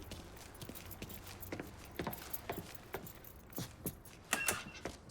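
Truck keys being picked up in the Mafia III video game give off a few short, light metallic jangles spread across a quiet game scene, with no speech.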